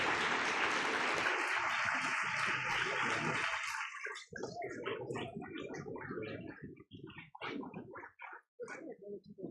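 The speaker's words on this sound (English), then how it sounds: "Let's have another round of applause for our outstanding students" Applause for outstanding student employees at an awards ceremony, a loud sustained wave of clapping for about four seconds that then thins into scattered individual claps fading out.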